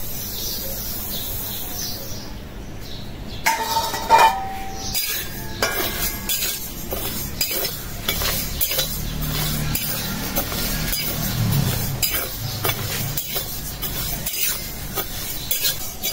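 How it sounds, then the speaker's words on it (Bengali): Lentils (dal) are fried in a wok, with repeated close metallic clinks and scraping stirs over a faint sizzle, while birds chirp in the background. "ডাল ভাজার জন্য কড়াই বসাই দিলাম"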